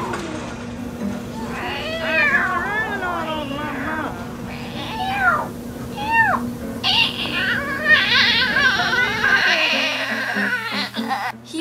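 A cat meows repeatedly in a string of drawn-out, wavering cries, fairly close and loud, with a steady hum underneath until near the end.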